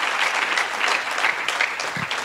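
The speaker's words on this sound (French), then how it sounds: "Acclamons Jésus pour la paix." Church congregation bursts into dense, steady applause, a close and full clapping that fills the whole brief moment.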